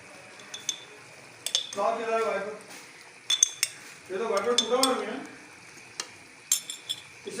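Pickle spooned into a pan during Nani Jan's home cooking, heard as scattered metal spoon clinks and scraping against the pan, with two longer stirring bursts and light sizzling, all moderately close with no talk.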